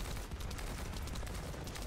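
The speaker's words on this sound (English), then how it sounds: "Bro, I'm shooting at shield" Sustained gunfire from the video game The First Descendant hammering at an enemy shield, a dense continuous rattle of rapid shots filling the whole stretch at steady loudness with no gaps.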